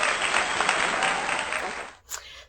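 Steady, loud applause from a crowd for about two seconds, then it cuts off into a short quiet gap and a brief sharper sound.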